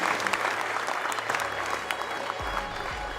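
An audience at an amateur football awards evening applauds with dense, continuous clapping, and a voice speaks briefly through it.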